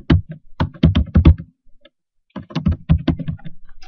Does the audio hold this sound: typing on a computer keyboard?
yes